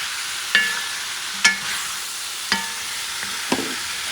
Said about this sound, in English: I like to add the potatoes and the carrots now so they get mixed with the flavors